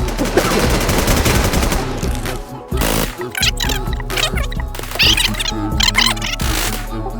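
Rapid bursts of automatic gunfire from the online survival shooter game Infestation rattle loudly and repeatedly in uneven volleys, with brief pauses between them.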